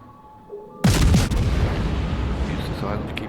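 A Royal Navy cruiser Edinburgh in World of Warships fires a loud, close naval gun salvo, a sudden heavy boom with a rolling rumble that fades into a long tail.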